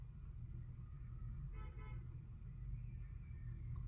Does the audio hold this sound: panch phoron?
no